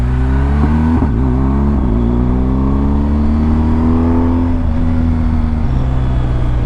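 A car engine drones steadily and loud throughout, its pitch rising and falling as it revs and moves past close by.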